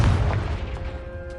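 A Confringo explosive spell cast in a Hogwarts video game lands as a single loud, deep boom right at the start, its rumble slowly fading away.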